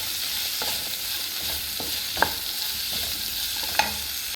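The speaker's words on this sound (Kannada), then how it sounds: "ಚೆನ್ನಾಗಿ ಫ್ರೈ ಮಾಡುವ. ಸ್ವಲ್ಪ ಚೆನ್ನಾಗಿ ಫ್ರೈ ಆಗಲಿದ್ದು" Fish masala for a Theede fish pulimunchi frying in a pan makes a steady, close sizzle, with a scattering of soft stirring clicks and scrapes.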